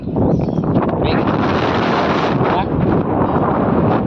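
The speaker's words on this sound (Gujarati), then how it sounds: "પવન બહુ છે" Strong wind sweeps across an open rooftop terrace, roaring and buffeting the microphone in a loud, continuous rush that swells and dips slightly without pause.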